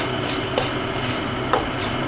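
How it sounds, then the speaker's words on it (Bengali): Dough being worked by hand after water is mixed in, building a tight dough for radhaballavi; a steady soft rubbing and pressing texture with a couple of light knocks, close up, with no talking. "এইবার ভালো করে মিশিয়ে একদম একটা টাইট ডো তৈরি করতে হবে।"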